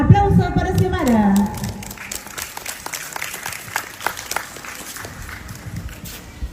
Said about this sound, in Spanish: Aplauso para Xiomara.